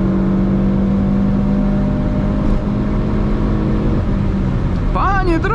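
The engine of a 2000 Rover pulls hard at full throttle on a highway, a steady loud droning roar with cabin road noise throughout and a brief voice near the end.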